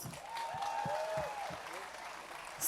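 Moderate crowd applause for a band at a singing competition finale, a steady wash of clapping with a faint whistle and some voices mixed in, swelling slightly at the end.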